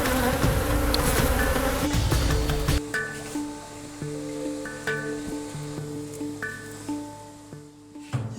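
Honey bees at a beehive in Bonifacio drone with a layered buzz. Wing tones rise and fall as individual insects pass close by, over a louder rustling, noisy stretch at the start.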